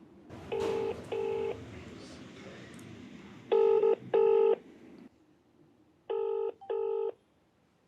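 Touch-tone telephone dialing for a call: pairs of DTMF key beeps in three separated bursts, clear and close over a faint background hum, with no talking.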